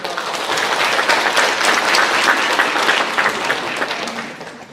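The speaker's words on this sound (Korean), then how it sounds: "축하합니다. 박수 한번" A church congregation claps in sustained applause, steady and fairly loud, tapering off toward the end.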